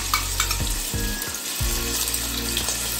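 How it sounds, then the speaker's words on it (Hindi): Ginger-garlic paste sizzles steadily in hot oil in a pan while potato and egg curry is made at home, a dense, continuous close frying hiss with brief stirring shifts. "ये हमारा तेल गर्म हो चुका है। अब इसमें अदरक और लहसुन का पेस्ट"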